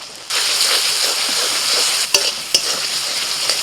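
Chopped tomato and spices, including dried chilli, cumin paste and turmeric, sizzle loudly in a hot pan, with a spoon scraping and stirring through it and a couple of sharp knocks against the pan.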